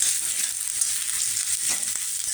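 Chopped onion frying in a pan for a roll stuffing, a steady close hiss of sizzling oil with faint stirring scrapes and no talk.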